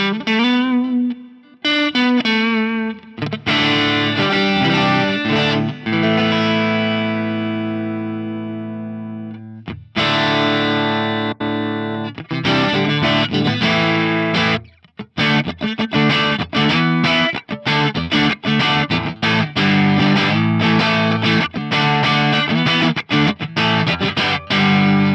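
Electric guitar lead tone through a Bludotone Ojai amp model on an Axe Fx III, bright switch on with a little bass, with slight breakup: sustained notes and chords, then a busy run of quick picked phrases, loud and alone.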